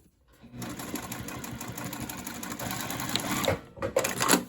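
A sewing machine runs back stitches on a backpack in one continuous close whirring burst after a brief quiet start, then stops with a couple of short clicks and bumps.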